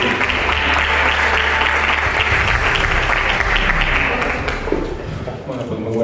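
An audience at a bioethics and public health policy lecture gives a speaker sustained, full applause that fades toward the end, as a voice begins to speak.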